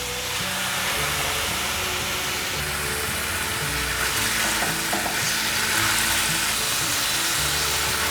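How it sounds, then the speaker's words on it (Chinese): Mashed tofu fries in a pan of hot oil, giving a loud, steady sizzle with stirring scrapes throughout, close up and without talk. "锅内放入少许油，油已经热了，把豆腐放进来煎。"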